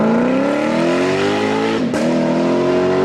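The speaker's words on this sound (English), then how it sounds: "The LC500 is a great and frankly underrated car that pushes 471 horsepower via a 5-liter V8" A Lexus LC500 with a 5-liter V8 revs loudly and close by, its pitch climbing steadily, dipping briefly with a shift, then rising again with no talking.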